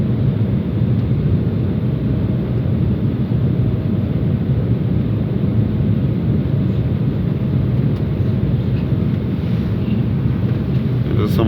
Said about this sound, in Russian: Это самолет